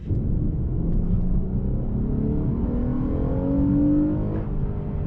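A Lexus IS350 V6 sedan accelerating hard, the engine note climbing steadily in pitch as revs rise, heard loud and continuous from inside the car with a deep rumble underneath.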